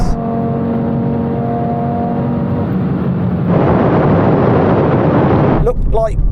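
A tuned hatchback Audi of about 500 horsepower accelerates hard in a drag race, a loud sustained engine roar with a rising harmonic whine that swells and thickens partway through, and a voice breaks in at the very end.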